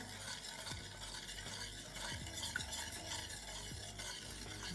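A utensil stirs thick mixture in a bowl, with soft repeated scraping and sloshing strokes at a close, quiet level, no talking.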